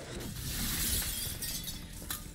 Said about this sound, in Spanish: ¿Os gusta romper cristales?